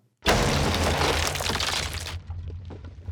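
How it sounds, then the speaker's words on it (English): A stony explosion from the medieval video game Kingdom Come Deliverance 2 bursts in suddenly, loud and dense for about two seconds, then breaks into scattered rumbling debris as it thins out, with no voices. "So here is the first explosion, the stony one"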